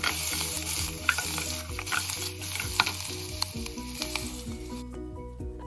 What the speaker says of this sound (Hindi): अब उसमें अदरक, लहसुन, हरी मिर्च डालनी है। उसे भी लो फ्लेम पर लगातार चलाते रहना है।